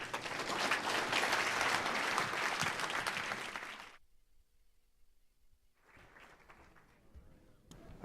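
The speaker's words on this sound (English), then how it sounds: "how about another round of applause for Mark?" Audience applause for a speaker named Mark at a talk: a dense, loud burst of clapping lasting several seconds, cutting off abruptly, then faint scattered claps and low room noise.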